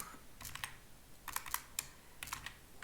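Computer keyboard typing in short bursts of quick, crisp key clicks with brief pauses between, close and fairly quiet, no talking.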